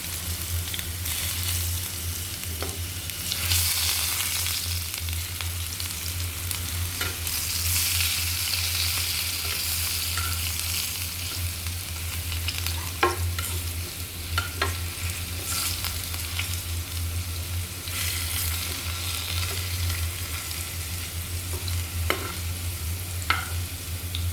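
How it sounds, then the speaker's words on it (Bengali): Steady close-up sizzle of potatoes frying in a pan for snakehead fish curry, a continuous crackling hiss with occasional sharper pops and stirring scrapes. "আলুটা এভাবে ভালো করে ভেজে নেবেন।"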